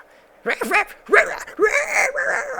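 A human voice imitates a dog barking behind a door in a tabletop role-playing game session, with three strained, yelping, howl-like bursts in quick succession and no other sound between them.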